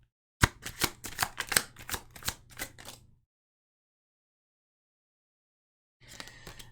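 Tarot cards shuffled in a rapid run of crisp riffling slaps for about three seconds, then silence, then softer card handling as one is drawn; close and clear, no talking.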